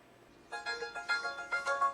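Mobile phone ringtone ringing alone in a quiet room, a bright melodic electronic tone pulsing in a steady repeating pattern of short bursts, clear and moderately close.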